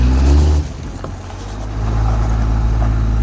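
A Dodge Dakota with a swapped 12-valve Cummins diesel, S300 turbo and 48RE transmission rumbles low and heavy as it pulls forward, with a short louder burst at the start before settling into a steady drone.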